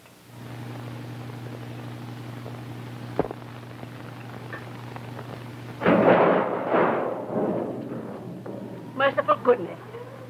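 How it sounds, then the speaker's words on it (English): A loud crack and rumble of storm thunder bursts out after a steady hum in an old 1931 mystery film soundtrack. Brief voices follow. "There certainly is a bad storm blowing up."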